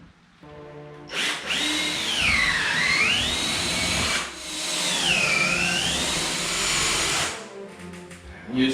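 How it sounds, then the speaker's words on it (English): A loud Makita hammer drill with a 1/2-inch masonry bit whines and grinds into cinder block in two long bursts, its pitch dipping and rising as it bites into the block. "Use my handy dandy Makita hammer drill with a 1/2-inch masonry bit."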